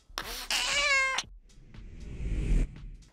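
A cat gives one loud, drawn-out meow close by, then a quieter, breathy caterwaul-like call follows after a brief pause, with no talking.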